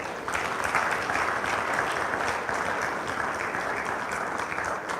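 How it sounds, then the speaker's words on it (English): An audience at a Nigerian conference event breaks into sustained applause, a dense, steady wash of clapping that holds evenly throughout. "Please, a round of applause for them."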